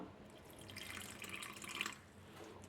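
Water poured into a bowl of wheat dosa batter gives a steady, close splashing trickle for a few seconds with no voices.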